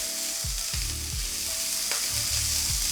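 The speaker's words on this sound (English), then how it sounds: "stick in our aromatics, which is the garlic and ginger. And here we're just going to stir these in nicely" Garlic and ginger sizzle steadily in a pan while a utensil sweeps through them in repeated scraping strokes, about every half second, with a constant bright frying hiss underneath and no talking.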